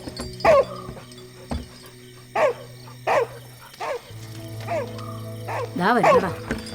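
A hungry dog barks and whines in short bursts, yelps and whimpers rising and falling at irregular intervals, close by, with a steady low hum in the background and no clear talk.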